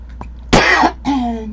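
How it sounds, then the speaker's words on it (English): A person coughs close to the microphone during a live stream, one sharp loud cough followed by a throaty rasping sound. "talking is making me cough"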